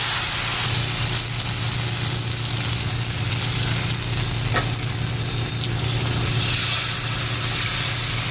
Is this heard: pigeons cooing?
no